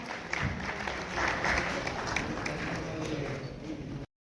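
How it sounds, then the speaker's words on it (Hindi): Audience at a Rotary blood bank charitable trust donor felicitation event in Faridabad applauding, a dense rush of clapping that swells and holds steady for about four seconds before cutting off abruptly. "तालियों में कंजूसी ना करें, तालियां जोरदार बजाएं हम सब लोग।"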